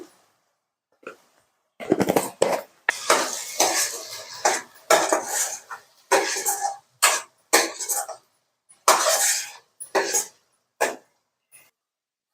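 Spices such as chilli powder and coriander powder being stirred into a ridge gourd curry with dried fish, heard as repeated scraping and clinking of a spoon against a pot in short bursts, close and fairly loud.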